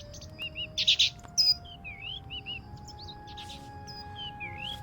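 In the adventure video game The Book of Unwritten Tales, a small bird chirps and tweets in quick, bright bursts, louder near the start and then softer, over a quiet background hum.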